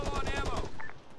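Machine gun fire from the Arma 3 military video game, a fast close burst of shots lasting about half a second, followed by a brief faint radio-like tone.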